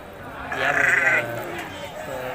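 Goats bleat at the Konganapuram goat market, one clear drawn-out bleat rising over a busy background of crowd chatter and market noise.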